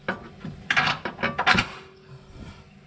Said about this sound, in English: Align the hole and put in the bolt.